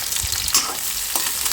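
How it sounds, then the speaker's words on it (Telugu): Food shallow frying in a pan at home, a steady close sizzle with a few scraping stirs of a utensil, no voices. "ఇలా షాలో ఫ్రై చేయాలన్నమాట."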